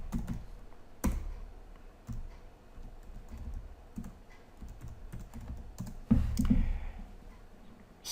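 Computer keyboard typing sales figures into an Excel spreadsheet, with irregular soft key clicks and a couple of louder taps, close and alone without talk.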